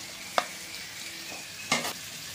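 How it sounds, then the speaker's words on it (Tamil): Ginger and garlic sauté in sesame oil for a crab gravy. A faint, low sizzle runs underneath, broken by two short, sharp scrapes of a spoon against the pan. "இந்த இஞ்சி பூண்டை நல்லா வதக்கி விட்டுக்கலாம்."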